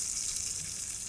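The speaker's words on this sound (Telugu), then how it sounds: "ఇప్పుడు ఇందులో మనం కూరగాయలు వేసి లైట్ గా ఫ్రై చేస్తాం" Vegetables including drumstick and beans frying lightly in a tempering for Kerala-style aviyal, a mixed vegetable coconut curry, giving a steady, soft, hissing sizzle that continues evenly without voices.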